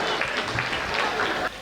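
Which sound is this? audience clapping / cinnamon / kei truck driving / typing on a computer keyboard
audience clapping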